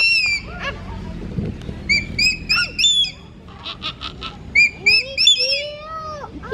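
A nearby bird gives repeated squawking and chirping calls in short bursts separated by brief pauses, loud and close.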